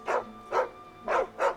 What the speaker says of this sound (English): See, that's a dog.